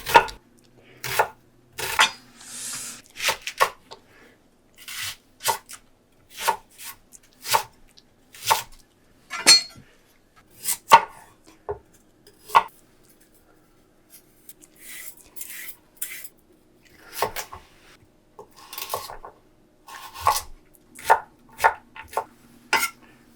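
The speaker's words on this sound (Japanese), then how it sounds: "野菜はだいたい1センチぐらいの色紙切りにするといいですね。" A knife chops vegetables into small one-centimetre squares on a cutting board, making crisp, close, evenly paced taps that come in short bursts with brief pauses, no voices over them.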